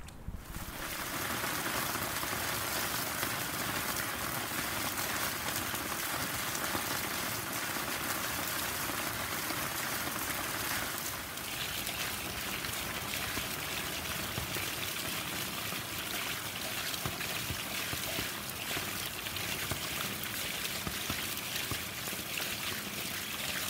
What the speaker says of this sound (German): Das Wasser kommt auch aus der Regenrinne